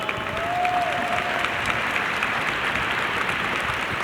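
Audience at a city State of the City speech applauds the school superintendent with an even wash of clapping lasting the full few seconds, moderately loud and unbroken.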